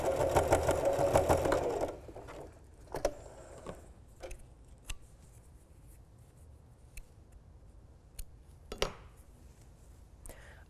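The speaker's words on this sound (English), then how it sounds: "someone's asking about my brand of sewing machine. I'm just using a Singer Heavy Duty." A Singer Heavy Duty sewing machine runs in a quick, loud burst of rapid stitching on a short seam of a T-shirt for about two seconds. It then falls quiet, leaving only a few soft clicks and taps nearby.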